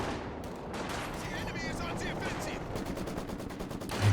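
Distant rattling machine gun fire in a World War II real-time strategy match, rapid repeated bursts mixed with battle noise and a caster talking over it.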